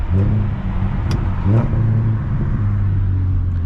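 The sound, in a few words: car exhaust burbles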